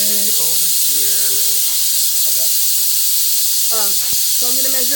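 Steam hisses loudly and steadily from an Instant Pot during fish chowder cooking, a constant broadband roar running the whole time while people talk over it.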